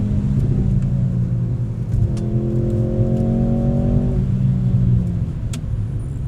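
A Mercedes-AMG C43 V6 revs hard after a downshift, a loud, sustained engine note climbing and holding high before easing back, close and continuous for several seconds.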